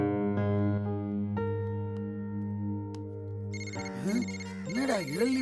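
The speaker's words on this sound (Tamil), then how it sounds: "என்னடா early morning நம்ம வாக்கிங் அவர்ஸ்ல ஃபோன் வருது?" Mobile phone ringtone playing a bright electronic melody of sustained tones, shifting partway into a warbling, busier pattern, loud and close with no talking.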